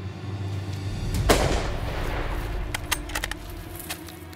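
A single loud rifle shot cracks during an outdoor buffalo hunt and rolls away in a long, booming echo, followed by faint clicks and rustles nearby.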